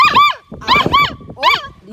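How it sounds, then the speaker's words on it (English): A pet dog barks up close in about three sharp, whiny bursts with short gaps between them, and a voice can be heard around the barks. "Nay, don't bark,"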